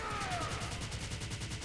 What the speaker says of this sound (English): How about Gallic Beam Cannon?